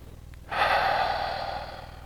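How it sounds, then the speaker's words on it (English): One long, deep inhalation through the body, a steady airy rush that starts suddenly and fades slowly over a couple of seconds, close and clear with no talking. "I'm going to take a nice big deep breath in"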